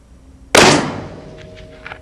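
A single loud rifle shot fired at a target 710 yards away in light wind, with a sharp crack that decays over about a second and a faint distant report or echo following.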